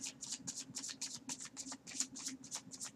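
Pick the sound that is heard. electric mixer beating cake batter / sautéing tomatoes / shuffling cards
shuffling cards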